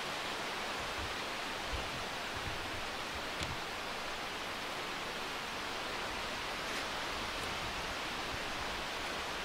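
Creek water rushing through a deep rocky gorge below a high cliff edge path, a steady broadband roar that stays even and dense throughout, heard from a distance with no voices.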